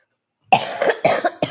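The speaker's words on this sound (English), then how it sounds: "I was hoping that I wouldn't start the coughing again during this" A person with a lingering cold coughs three times in quick, harsh bursts, close and loud after a moment of silence.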